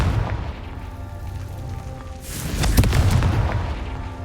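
A Confringo blasting spell explodes in Hogwarts Legacy, a loud booming blast that swells midway through, over continuous game ambience.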